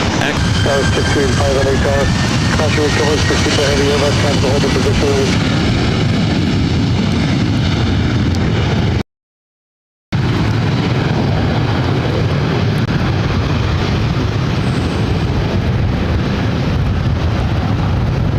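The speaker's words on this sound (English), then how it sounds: "This is WestJet Flight 1511 taking off to Calgary on the 737-800." A WestJet Boeing 737-800 jet taking off at LAX, a loud sustained roar with heavy wind buffeting on the microphone, broken by a brief dropout midway.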